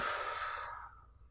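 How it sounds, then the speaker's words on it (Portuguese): A single long, forceful exhale of breath, close and airy, pushed out during an abdominal crunch demonstration, then tapering off into quiet. "inspira, quando eu voltar, eu expiro"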